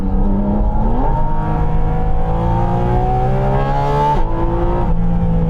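A sports car engine revving hard in second gear on a dual carriageway, a loud sustained interior drone climbing steadily in pitch, then a quick gear-change dip before pulling on again, no talking.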